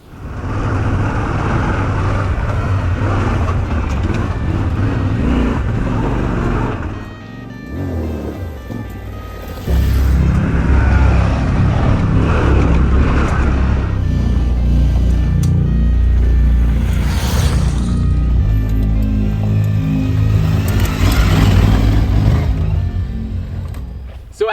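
A Yamaha Tenere 700 and an Aprilia Tuareg 660 adventure motorcycle ride off-road. Their loud, steady engine drone and wind rush dip briefly partway through, then surge back strongly to the end.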